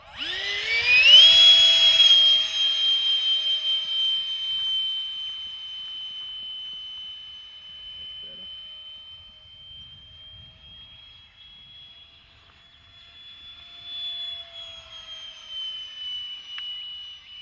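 A Freewing F-8 Crusader 64mm electric ducted fan model jet flies overhead, its high-pitched turbine whine rising sharply then holding a steady tone as it passes and recedes, returning faintly later.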